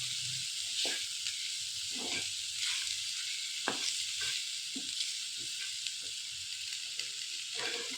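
Onions sautéing in a pan on a low flame, a steady soft sizzle with occasional spoon scrapes and light taps, close but fairly quiet, no voices.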